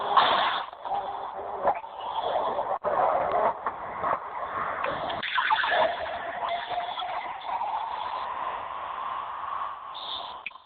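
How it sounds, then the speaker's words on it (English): Fizzy soda pop pouring into a container, a steady rushing, bubbling pour lasting several seconds with no voices over it. "What is that sound of that liquid pouring?"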